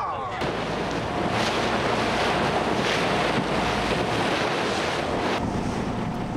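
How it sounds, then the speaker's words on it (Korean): Rough East Sea waves toss a boat on the crossing to Ulleungdo, a constant loud wash of surf and water rushing against the hull with heavy wind buffeting the microphone throughout. "울릉도에 대한 실감은 몸을 가누기도 힘들 만큼 거센 파도로부터 시작됩니다"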